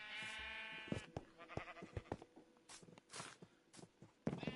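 Sheep bleating on a farm in a video game, several wavering bleats close together over a few seconds, mixed with soft footstep-like thuds, fairly quiet overall.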